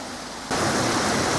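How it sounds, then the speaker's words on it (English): Water runs down from a balancing pond into a canal, a steady rushing wash that cuts in abruptly after a quiet half-second and then holds loud and even for about a second. "with the water running down into the canal and coming out there"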